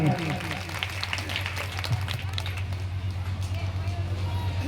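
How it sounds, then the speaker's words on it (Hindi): Applause at a religious Bhagwat Katha gathering in a village, continuous crowd clapping with a steady low hum beneath and some voices mixed in. "सभी के लिए जोरदार तालियां"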